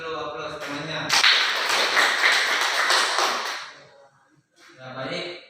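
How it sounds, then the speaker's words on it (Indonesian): A classroom gives a classmate a round of applause: a burst of clapping from a group lasts about three seconds after a short voice, then fades, and talking resumes at the end. "Kasih dulu aplaus temannya."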